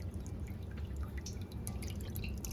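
Water dripping and trickling while crabs are washed, a continuous faint patter of drops close by and with no voices.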